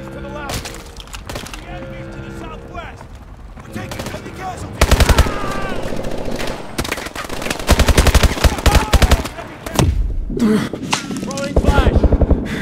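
Dense bursts of automatic gunfire and single shots crack through a Call of Duty Advanced Warfare firefight, loud and close, with shouted voices mixed in amid the rattling volleys.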